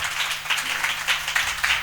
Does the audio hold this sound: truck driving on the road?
no